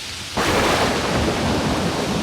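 A storm of heavy rain with thunder breaks in suddenly after a brief lull, a dense, loud, steady roar of downpour filling the space.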